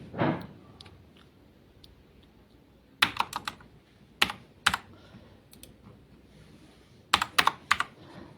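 Keys clatter on a computer keyboard as a card number, expiry date and CVV are entered, coming in short quiet bursts of quick taps separated by pauses, close and otherwise hushed.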